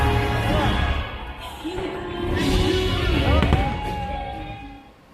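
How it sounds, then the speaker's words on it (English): Disney World's Enchanted fireworks show bursting overhead, a loud, continuous rumble of booms and crackles with a crowd murmuring beneath and a bright whistling streak rising near the end. "the last clip you would have seen would have been the new fireworks show, Enchanted"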